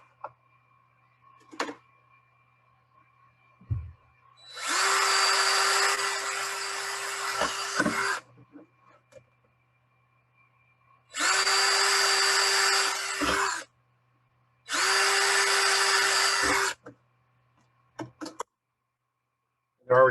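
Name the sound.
power drill drilling holes through a paper printout template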